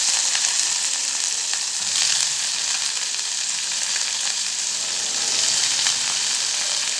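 Chopped onion, chillies, coriander leaves and curry leaves sauté in a pan with a continuous, even hiss of hot oil, close and fairly loud, with no talking.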